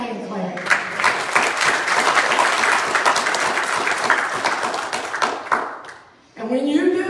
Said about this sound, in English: give Him a hand clap